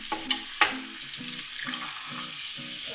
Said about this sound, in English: We got the eggs cooking right now,